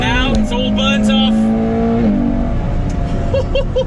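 A Ferrari F12 tdf engine roars loud and close while driving up Mount Etna, pitch rising under acceleration and then shifting down, with someone talking over the engine.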